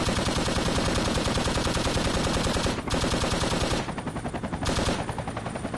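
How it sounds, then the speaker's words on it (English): A helicopter door gun firing in a Vietnam-era combat video game, a loud, continuous machine-gun rattle of rapid rounds that holds for nearly six seconds with only brief breaks in the stream. "Just keep shooting, Husky."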